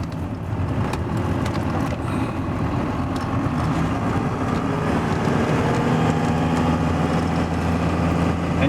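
A 1993 Dodge D350 pickup with a 12-valve Cummins 5.9 diesel on a test drive, its engine and road noise a steady, loud, continuous rumble heard from inside the cab with no talking.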